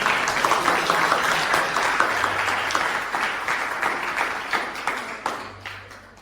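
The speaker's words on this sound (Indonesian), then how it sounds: "Tepuk tangan untuk kalian semua." An audience at a ninth-grade junior high school arts performance applauds the students, a dense, steady wash of many hands clapping that gradually thins and fades, with a few final individual claps.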